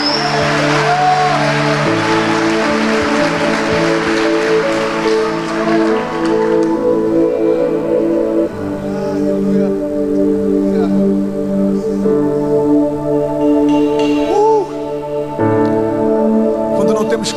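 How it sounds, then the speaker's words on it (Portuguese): A church congregation claps harder and louder during a sermon, a dense wash of applause for several seconds over sustained music, thinning as the music and worship continue. "Se for para ele, pode aplaudir mais"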